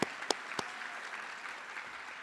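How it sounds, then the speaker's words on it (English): Audience applause for an Air Force veteran student at an awards evening, a steady soft patter of many hands heard from a distance, opening with a few sharp nearby claps. "I think that deserves a round of applause."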